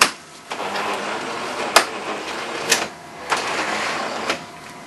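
A Jura Impressa XF50 coffee machine running its rinse cycle gives off a steady whirring hiss, broken by several sharp clicks and brief spurts, close and moderately loud.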